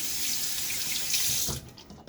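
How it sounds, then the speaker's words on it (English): Tap water runs steadily and loudly into a sink for working up shaving lather, a continuous close splashing rush that cuts off abruptly near the end. "add a little more water"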